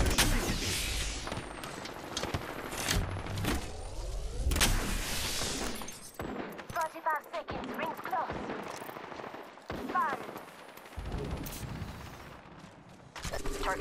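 Gunfire in the video game Apex Legends: rapid automatic bursts and single shots crack in loud clusters, with a voice talking over the firefight.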